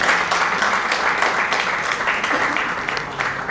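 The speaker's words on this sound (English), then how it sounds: "Give a big round of applause to all of you." A university audience gives students in Tezpur a continuous round of dense clapping. The crowd noise stays loud and even from start to finish, with no voice standing out.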